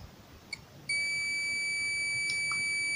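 A digital multimeter set to continuity emits a steady, loud, high-pitched beep when its probes are touched together reading zero ohms; after a brief soft click, the tone starts and holds unbroken to the end.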